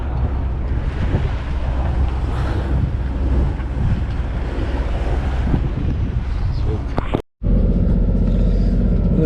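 Sailboat motoring into strong wind, heavy wind buffeting the microphone over a low engine drone and rushing water, continuous and loud, with a brief dropout before the steady motor hum returns.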